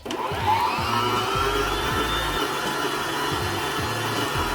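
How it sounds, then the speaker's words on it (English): Electric mixer whirring through cream cheese and butter, a steady motor drone with a rhythmic pulsing as the beaters churn, loud and continuous with no talking. "we're going to blend the cream cheese and the butter together."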